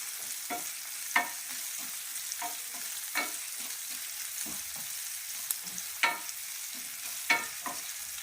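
Moringa leaves being sautéed in a pan for a Kerala-style stir-fry, giving a steady soft sizzle broken by sharp scraping stirs of a spoon every second or so, close and without any voices.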